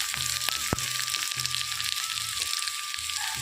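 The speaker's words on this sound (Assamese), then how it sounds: "এতিয়া মই কেঁচা জলকীয়াখিনি আৰু আদা নহৰু দি দিম" Onion, green chilli, ginger and garlic frying in a pan for a dried fish and brinjal dish, with a continuous hissing sizzle, a few sharp taps and a thin whine, close by.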